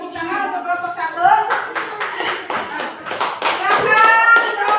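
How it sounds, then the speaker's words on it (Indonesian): A school class claps for a group of students, a loud, dense burst of hand clapping with children's voices mixed in throughout. "Kita kasih tepuk tangan untuk kelompok 1."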